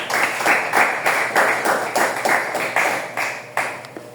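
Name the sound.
church congregation applauding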